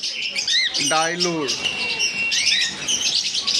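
Pet lovebirds, sold in pairs, give short, shrill chirps and squawks close by, with a quick run of rising calls partway through over a light background murmur.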